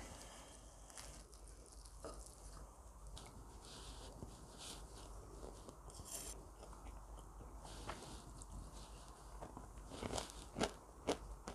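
Someone chews crispy stir-fried dried anchovies (myeolchi bokkeum), a Korean side dish, making soft close crunches and crackles that grow louder and sharper toward the end, with no talk.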